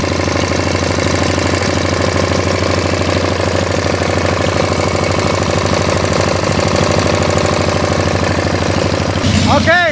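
A Harley-Davidson Shovelhead engine idling up close, a loud, steady, loping mechanical chug with rapid knocking pulses that holds constant throughout, a voice briefly heard over it near the end.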